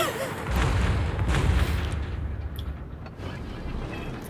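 A naval gun shell strikes a warship's citadel in the World of Warships video game, giving a deep, rumbling boom that swells quickly and then decays over a few seconds of low roar.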